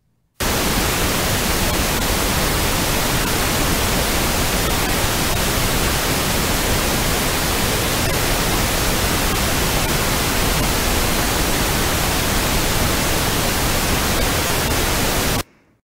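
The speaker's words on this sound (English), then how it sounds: "What follows is 15 seconds of pink noise, which will allow you to correctly adjust the balance." Pink noise test signal for balancing speakers plays as a loud, steady, unbroken hiss for about fifteen seconds, with silence just before and after.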